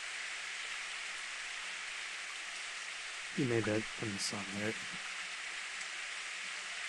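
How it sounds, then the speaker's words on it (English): An evening rain shower in the video game Steins;Gate makes a soft, even hiss that runs the whole time, with a brief line of speech partway through. "It's finally raining. There's an evening shower, so it'll get intense soon."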